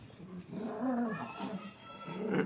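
Several cats yowl and growl at each other in a short scuffle, with drawn-out rising and falling caterwauls close by, and a person's voice briefly mixed in.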